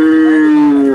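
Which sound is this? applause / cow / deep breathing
cow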